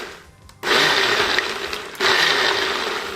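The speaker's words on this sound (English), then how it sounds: "And that was about 10 pulses with this type of blender." A blender pulses cilantro salsa for tamales made with veggie bouillon and water, two loud whirring bursts separated by a brief dip, close and with no voices.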